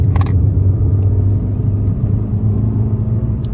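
A Fiat Panda 100HP laps the Oulton Park circuit, its engine droning with a steady low in-car rumble and road noise, loud and close, with a brief rattle near the start.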